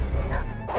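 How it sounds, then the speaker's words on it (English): A dog barks in a short film scene, a couple of quick yips over a noisy, busy background with some voice-like sound mixed in. "Cut away to a barking dog"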